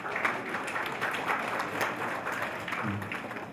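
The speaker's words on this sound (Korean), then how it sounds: "박수로 맞이해 주시기 바랍니다." Audience applause welcoming a staff member onto the stage at a university freshman orientation, a steady wash of clapping that holds evenly throughout at moderate volume.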